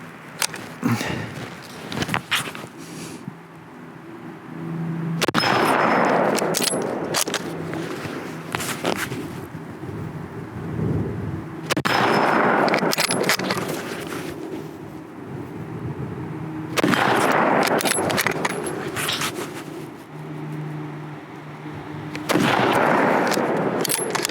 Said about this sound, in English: Here we go again, sporterized Lee Enfield. I just can't stop shooting.